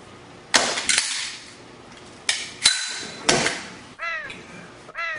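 Roughly five sharp, loud gunshots crack close by in two quick clusters, with a few short squeaky chirps near the end and no talking.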